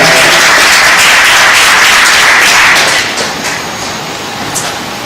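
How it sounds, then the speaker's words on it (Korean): A large crowd at a gathering with a city mayor claps loudly in a dense, sustained roar of applause that fades somewhat in the final seconds. "큰 박수 부탁드립니다."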